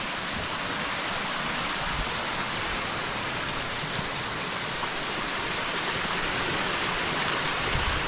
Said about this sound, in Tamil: இந்த காடு முழுக்கவே அருவிகள் சத்தம், வண்டுகள் சத்தம் தான் இருக்குங்க.